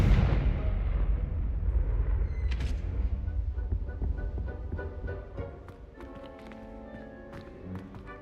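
A Confringo explosion spell goes off in the Hogwarts Legacy video game, a loud, dense blast that fills the opening seconds and then settles into a softer rumble with scattered magical chimes and light tapping.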